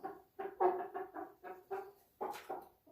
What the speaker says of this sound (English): So much clucking going about.